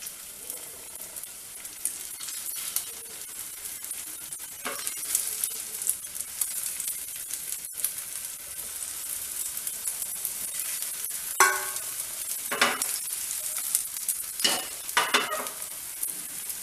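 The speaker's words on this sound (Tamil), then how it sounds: "ஆயிலை கொஞ்சம் லோ ஃப்ளேமில் வச்சு வேக விடணும்." Soya chunk and potato roti frying in oil over a low flame, giving a steady close sizzle throughout with a few brief clinks and scraping stirs.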